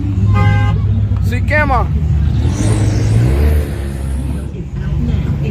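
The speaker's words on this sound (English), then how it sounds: "He finna burn out" A drag racing car doing a burnout on a cold night of grudge racing at Yello Belly Drag Strip, with a loud, steady engine roar running under close, excited talk throughout.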